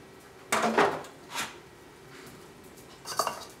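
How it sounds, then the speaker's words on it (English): A two-year-old girl washing dishes at a sink makes a few clattering bursts of dishes and cutlery, one cluster early, a short knock after, and another clatter near the end, with quiet gaps between. "So you get to do the dishes?"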